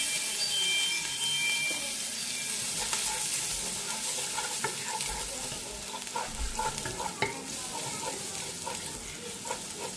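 Garlic and ginger sizzle steadily in a hot pan, a dense continuous frying hiss with occasional stirring scrapes and clicks, close up and without speech.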